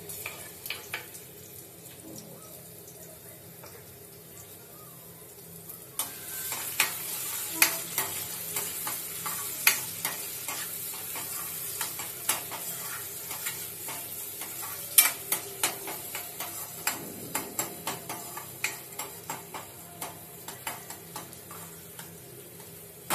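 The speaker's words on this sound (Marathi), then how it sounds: "तर इथे कांदा फोडणीला टाकूया" Chopped onion dropped into hot tempering oil, a sudden burst of sizzling at about six seconds that continues steadily, with repeated sharp spatula taps and scrapes against the pan and no one talking.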